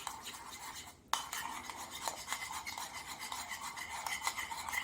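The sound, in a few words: stirring flour into a smooth paste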